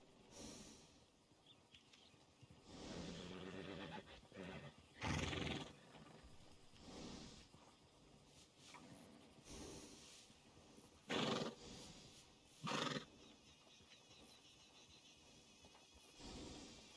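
A horse in Red Dead Redemption 2 whinnies and snorts in several loud bursts spaced apart, with soft breathing and faint hoof movement between them and no talk.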